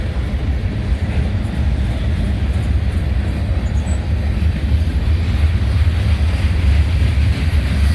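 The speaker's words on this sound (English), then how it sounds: "So he's moving on, man. Look at that. Burlington Northern Santa Fe, BNSF." A BNSF freight train rolls past at close range, a loud steady rumble and clatter of rail cars that holds without a break for the whole stretch, with no talking.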